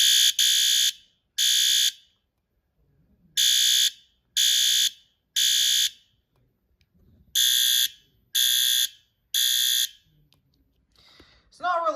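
A System Sensor P2R fire alarm horn-strobe, taped over and set to its lowest volume, blares in repeated short bursts of harsh temporal-pattern horn, moderately loud and close, with quiet rustling between the blasts.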